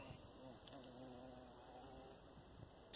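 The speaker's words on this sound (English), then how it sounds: "Didn't take long for the carpenter bee to find it." A carpenter bee buzzes close by with a steady, continuous hum, fairly faint against quiet outdoor background.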